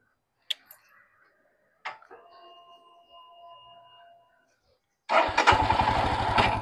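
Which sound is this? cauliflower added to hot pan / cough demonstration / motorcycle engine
motorcycle engine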